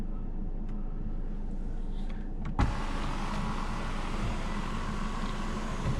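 A power sunshade closes inside a 2019 Mercedes-Benz GLC 300, a steady electric motor whir sitting under cabin hum, with a light click partway through.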